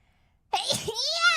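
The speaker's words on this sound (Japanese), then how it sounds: "くしゃみが出た" A single sharp sneeze bursts out after near silence, followed by a drawn-out, wavering vocal trailing sound.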